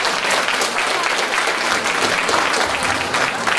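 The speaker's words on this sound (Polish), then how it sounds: "Brawa!" An audience at a Great Orchestra of Christmas Charity finale event in a culture house in Kałuszyn claps for a first-place winner, steady dense applause filling the whole moment, loud and close.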